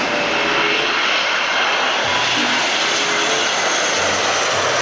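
A black-liveried Etihad Airbus passenger airliner roars steadily and loudly, a broad continuous engine noise with no talk over it.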